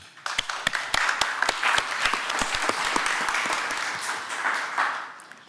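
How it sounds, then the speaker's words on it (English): Audience at a special county supervisors' meeting applauding the Shriners, a few sharp individual claps swelling into steady close-miked clapping across a small room, then tapering off. "we should give the Shriners a round of applause"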